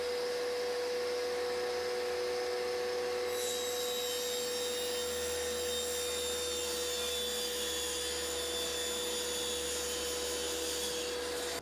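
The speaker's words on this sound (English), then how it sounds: "Let's start with setting up the saw a little bit so that we can cut up a piece of this template" A saw cuts a plywood template for the back panel of an electrical cabinet built for a boat, giving a steady whining, rasping drone that holds for the whole stretch with no one talking.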